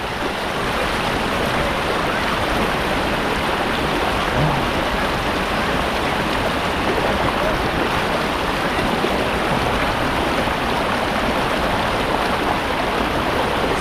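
Clear river water at Lawang flows with a constant, full rushing wash that stays even and close throughout, with no voices over it.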